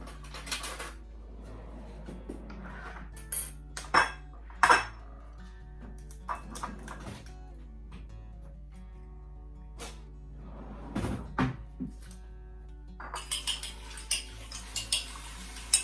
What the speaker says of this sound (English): we're going to beat an egg